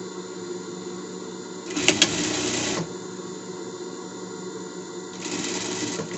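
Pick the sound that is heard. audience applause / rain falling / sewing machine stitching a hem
sewing machine stitching a hem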